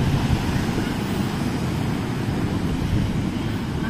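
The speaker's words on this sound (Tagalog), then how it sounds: "Ah, grabe ang alon." Strong sea waves roll in where people are swimming, a steady low roar of surf mixed with wind rumble that stays loud and unbroken throughout.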